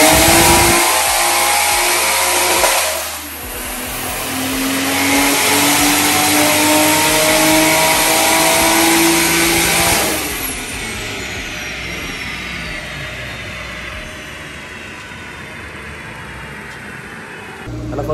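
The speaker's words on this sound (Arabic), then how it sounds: "بس بنعمل فيها رن على الدايم." A turbocharged engine running on a dynamometer, fitted with 1050 cc injectors and a Generation 2 turbo, revs hard in two loud sustained pulls, then drops back to a lower drone as it winds down.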